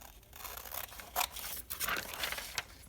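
Scissors cut out a paper tag for a budget art journal, giving a run of crisp, close snips and slicing sounds over about three seconds, with no talking.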